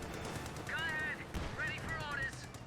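Rapid machine-gun fire in the real-time strategy game Company of Heroes 2, during a 2v2 match on Fields of Winnekendonk, crackling in bursts beneath someone commentator's steady talk.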